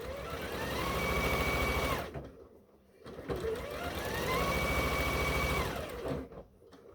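Stitching a quilt top, a sewing machine whirs in two long runs, each about two to three seconds, with a short pause between them. The motor sounds close and steady, and no one talks.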